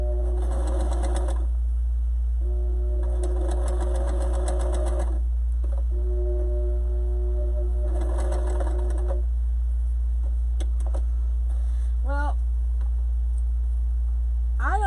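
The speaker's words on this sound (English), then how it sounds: "So I'm going to sew up that opening" Sewing machine stitching closed the opening of a fabric mask, running in several separate bursts of steady mechanical whirring with short pauses between, fairly close and alone, with a few small clicks near the end.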